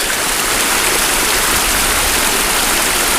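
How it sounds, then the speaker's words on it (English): A small overflow creek in the woods flows with a steady, dense rushing hiss of water, loud and close, continuous without pauses and with no voices. "there's also a small creek. I think it's a typical overflow creek, but still it's a creek."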